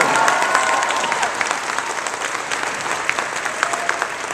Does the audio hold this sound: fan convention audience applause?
yes